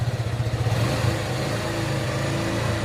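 A 2024 Suzuki Gixxer 155 motorcycle engine revs up to about 4,000 RPM, its throbbing pulse smoothing into a steady, loud drone close by with no talking.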